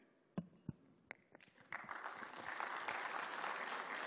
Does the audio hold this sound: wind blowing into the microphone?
no